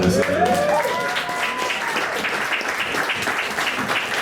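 Warm applause from a big band audience after a trombone solo, a dense wash of clapping hands that holds steady throughout, with a brief tonal note fading at the start.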